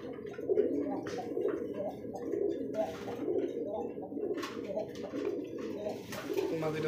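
A male Rasgolla pigeon coos close by in repeated low throaty phrases, with faint chirps and a voice talking softly underneath.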